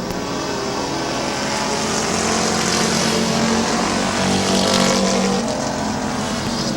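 Race cars roar around the oval at Midvale Speedway, a dense, loud, continuous engine blare with a sustained droning pitch as several cars battle closely for the lead.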